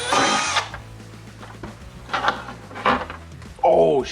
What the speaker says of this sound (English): On the outside, drill a hole on both sides.